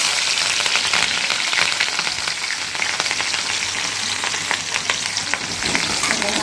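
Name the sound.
green chilies and garlic frying in sesame oil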